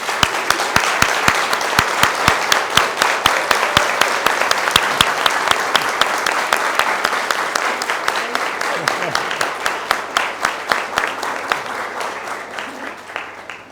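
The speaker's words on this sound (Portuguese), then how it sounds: "eu gostaria de pedir uma salva de palmas para eles" A group of people applauds their collaborators at a Christmas gathering, steady dense clapping that holds for over ten seconds before thinning toward the end, close and loud.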